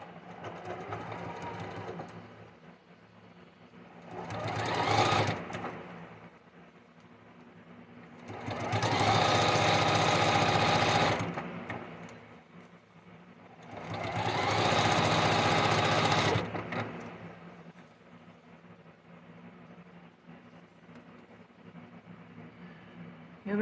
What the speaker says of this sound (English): let's sew this seam